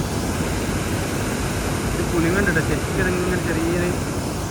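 Waterfall at Chembra pours in a steady, full broadband rush that stays loud and unbroken from start to finish, with faint tonal hums drifting over it partway through.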